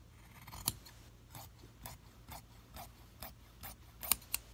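Scissors snipping through trench coat sleeve fabric, about ten crisp separate cuts at an uneven pace, close up and quiet with no talk.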